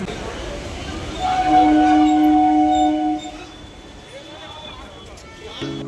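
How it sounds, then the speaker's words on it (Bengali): A Majerhat local train rolls into a Kolkata station with a rumbling approach and a sustained tonal horn or wheel whine in the middle, then settles to a lower rumble as it draws in. "এই দেখো ট্রেন চলে এসেছে আমাদের। এই যে মাঝেরহাট লোকাল।"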